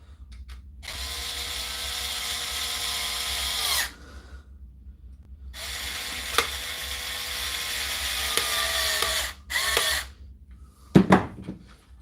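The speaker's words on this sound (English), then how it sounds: "only a matter of time before I put a 12-volt battery onto this 4-volt Draper screwdriver" A 4-volt Draper electric screwdriver whines in two long runs and a short burst, with quiet gaps between them, followed by a few sharp mechanical clicks close to the listener.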